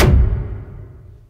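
The tail of a cinematic whoosh hit treated with RX denoise: a heavy low thud that fades out smoothly over about a second, with the high end tamed and no voices.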